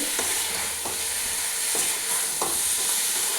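A spice mixture fries in a pan while a spoon stirs it, a dense steady sizzle punctuated by four evenly spaced scraping strokes, near and unaccompanied by speech.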